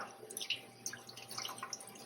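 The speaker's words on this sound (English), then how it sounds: "So I'm going to rinse it quite a bit so that I get all that extra green" Faint water dripping and trickling from a tap into a sink while a tie-dyed fabric mask is rinsed, with scattered small splashes and drips, quiet and close.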